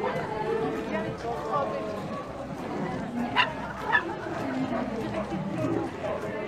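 Dogs at a dog market in Tokyo let out a couple of short barks in the middle, set against constant crowd chatter and people talking nearby.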